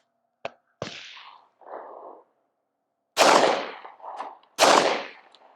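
Pistol shots fired at a target 45 yards away: five sharp, loud reports spread unevenly, two quieter cracks followed by three heavy booms, each trailing off into a brief echo, with silence between.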